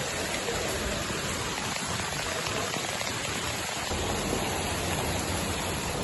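Heavy rain falling steadily, a dense continuous hiss at even loudness throughout with no talk over it.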